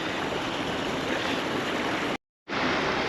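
Water rushing steadily through a gap in the sluice of the Velliyur check dam on the Kosasthalaiyar river, a continuous broadband roar that briefly cuts out before resuming.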